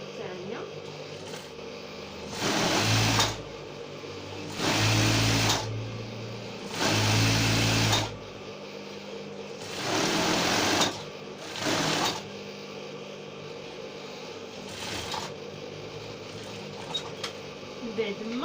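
A sewing machine stitches a seam on a traditional caftan in five loud, close bursts of rapid whirring, each a couple of seconds long with short pauses between, while a voice speaks quietly in the gaps.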